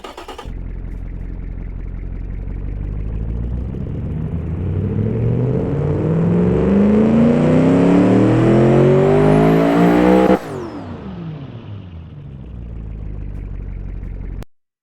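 A powerful new sports car engine in the Automation car-design game revs up steadily for about ten seconds with a rising, loud tone. It then drops back to a lower, steady drone before cutting off.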